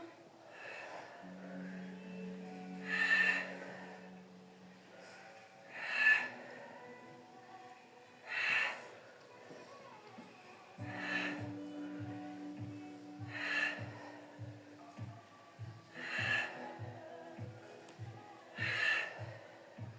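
A person does gentle gym exercises, letting out forceful exhales at a steady pace, one about every two to three seconds, over soft background music.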